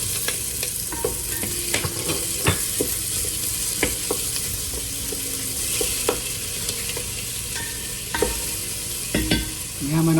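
Garlic and white onions for dinuguan sizzle steadily in a hot pan, with frequent scraping stirs and clinks of a utensil against the metal throughout, close and fairly loud with no talking.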